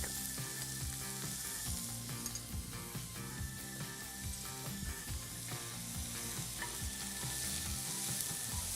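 Onion and garlic sauté in a hot pan, giving a steady, close sizzle throughout with scraping and clinking from stirring.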